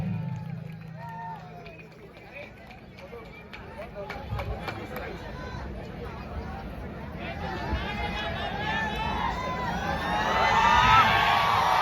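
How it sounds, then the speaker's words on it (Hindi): A large, noisy village crowd chatters and shouts, and voices speak over it. Clapping and cheering build toward the end and grow loud and dense as a guest is welcomed. "एक बार जोरदार ताली बजना चाहिए।"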